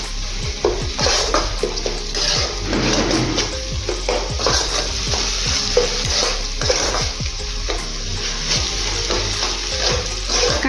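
Upma ingredients, including onion, fry in hot oil tempering, giving a steady dense sizzle with frequent spatula scrapes and stirring taps against the pan, close and continuous.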